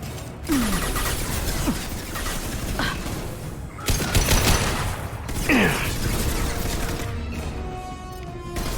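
Loud sustained gunfire rattles through a Mass Effect 2 battle, dense bursts layered with crashes and impacts, with brief lulls, sci-fi whooshes and a shout over the firefight.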